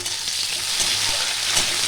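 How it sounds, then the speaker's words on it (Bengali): Tomato frying with lightly browned onions in a pan gives a loud, steady, continuous sizzle that holds evenly throughout, with no voices. "টমেটোটা একটু ভেজে নেব।"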